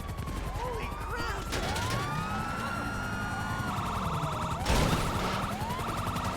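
A police car siren in GTA Online, wailing and yelping in rising and falling sweeps alongside bursts of gunfire and game sounds, with a voice talking over it.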